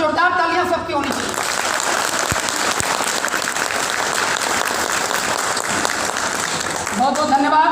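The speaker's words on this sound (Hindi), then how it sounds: "अगर सब जानना चाहते हैं तो जोरदार तालियां सबकी होनी चाहिए।" Loud, sustained clapping from a seminar audience at a real estate company event, filling most of the stretch before fading, with a man's speech just before and after.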